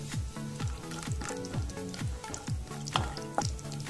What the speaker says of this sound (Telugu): నెయ్యి వేడైన తర్వాత జీడిపప్పును వేసుకుని ఫ్రై చేసుకోండి